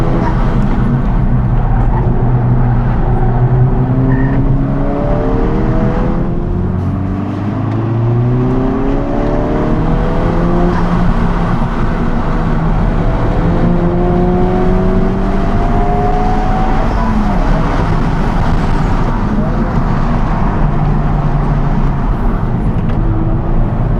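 Honda Civic Type R FL5 lapping a race track, its engine loud and close, climbing in pitch through repeated upshifts and pulls, with tyre and road noise underneath the whole way.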